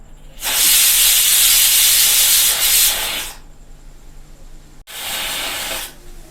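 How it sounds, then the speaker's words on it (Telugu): A pressure cooker on a stove, cooking dal and rice for Navaratri prasadam, vents steam in two loud, steady hissing bursts with a short quieter gap between them and no talking. "కుక్కర్ అయితే మూడు విజిల్ అయితే వచ్చేసిందండి"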